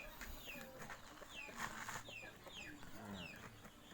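Fighting roosters cluck and call in a small coop at dusk, with repeated short clucks and crowing-like calls over a constant low background murmur, fairly faint and distant.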